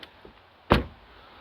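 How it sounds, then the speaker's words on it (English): A BMW G31 car door shuts once with a single solid, heavy thud after a brief faint click, then quiet follows. "Let's get on to the door shut sounds."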